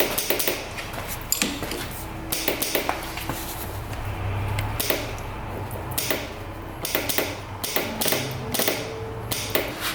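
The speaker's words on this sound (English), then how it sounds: "Now the solenoid is just clicking." A quad bike's starter solenoid clicking repeatedly as the key is turned, sharp close metallic clicks in uneven bursts with quiet gaps between, against a faint workshop background.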